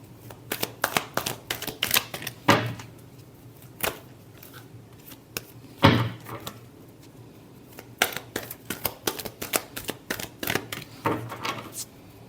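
Tarot cards shuffled by hand, crisp riffling snaps arriving in irregular clusters with a few louder slaps, close up and without any talking.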